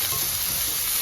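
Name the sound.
sautéing onion and capsicum in a pan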